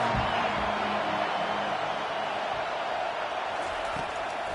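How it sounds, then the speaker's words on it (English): A football stadium crowd roars on a third-down play in a dense, continuous wash of cheering that holds steady and loud from start to finish. "this crowd is tearing the lid off this place"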